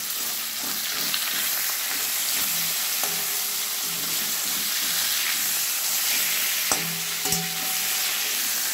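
Hilsa fish frying in oil in a pan, a steady close sizzle and hiss running throughout with occasional light pops and clinks.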